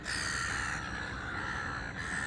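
Seagulls caw and call over Sydney Harbour at sunrise, with harsh cries rising above a steady wash of wind and water noise throughout.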